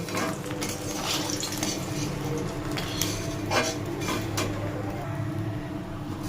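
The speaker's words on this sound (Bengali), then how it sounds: "মাছটা তুলে নিচ্ছি এবার সবজিগুলো ভেজে নেব" Vegetables being fried and stirred in a pan for a hilsa fish head curry: steady close sizzling with scraping and light clatter from the utensil against the pan.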